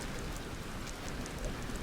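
Rain weather in the Skyrim video game: a soft, steady downpour hiss with faint patter, quiet and continuous, with no voices.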